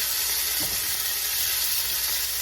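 Meat chunks for spicy Mexican pozole sear in a hot pan with a steady, loud, bright sizzle that runs unbroken throughout, with a brief stir or scrape near the start.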